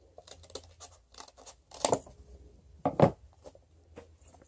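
Scissors snip through paper while cutting out an oval egg shape for a 3D egg and chick craft, with several soft scratchy cuts and two louder, sharper snips, close and without talk.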